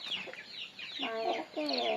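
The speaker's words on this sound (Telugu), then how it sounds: "కోడి పిల్లలు చూడండి నేను లేచేసరికి మొత్తుకుంటున్నాను" Young chicks cheep in high, rapid, overlapping chirps close by, with a few fuller clucking calls in the second half.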